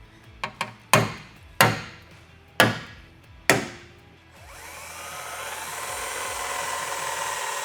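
Six sharp metallic hammer strikes on a center punch marking a Tacoma truck bed, irregularly spaced and close, followed by a rising steady whir of a power tool.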